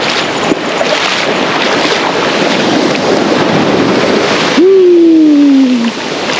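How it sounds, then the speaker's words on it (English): Ocean waves break on a Florida beach with a steep shelf near the shore, a constant loud washing rush pushed by wind, followed by a brief descending whistle-like tone near the end. "That's why the waves crash like that."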